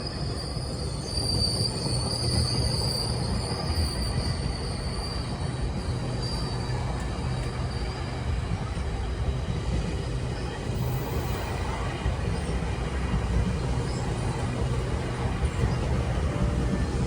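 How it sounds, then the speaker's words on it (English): A GO Transit commuter train rolls past on the Lakeshore East line, a loud, sustained rumble of wheels on rails with a faint high squeal, steady throughout. "Right behind this GO train is Via Rail 643 from Ottawa to Toronto."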